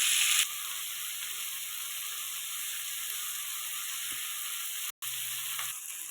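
Curry leaves fry with tomato in a pan for curry leaf chutney, giving a close, steady sizzle with a brief break near the end.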